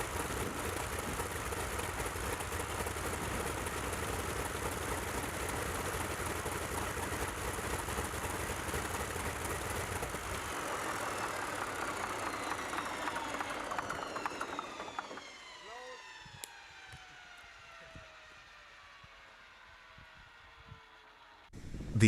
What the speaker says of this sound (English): the second successful start of the Curtis Wright R3350-32WA radial engine on this particular morning